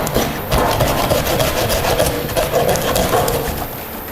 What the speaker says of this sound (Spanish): Ahora acá con la sierra nos podemos ayudar para ir cortando cada una de esas costillas